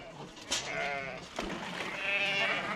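Ewes and lambs bleat in a farm shed in Ireland, with several overlapping calls close by, one sharp cry near the start and a longer wavering bleat toward the end, over a steady background of shed noise.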